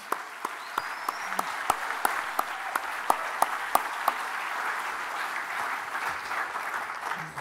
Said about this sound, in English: I think he deserves a massive round of applause.